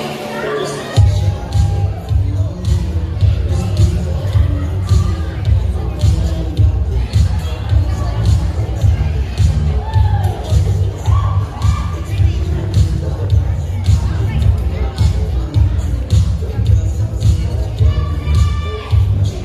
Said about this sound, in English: please give another round of applause to our candidates with their lovely parents